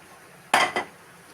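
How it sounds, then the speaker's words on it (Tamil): A sweet mixture with sugar syrup is stirred in a pan, heard as two quick close metallic scrapes of a utensil against the pan in an otherwise quiet moment. "இப்போ நல்லா கைவிடாமல் நல்லா கிண்டணும்."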